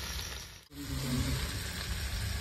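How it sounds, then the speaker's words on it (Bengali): Dry okra (bhindi) frying in a pan, a loud, steady close sizzle with a brief dip as something is moved, then a continuous crackle with no talking. "ভেন্ডির জলটা থাকলে তাড়াতাড়ি ধরে যায়। শুকনো তো, তাই একটু দেরি হয় ভাজতে ভেন্ডি।"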